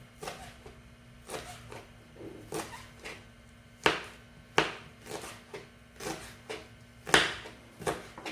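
A knife chops spring onions into half-centimetre pieces on a board, a steady series of crisp, close taps, some louder than others, in an uneven rhythm with no talk.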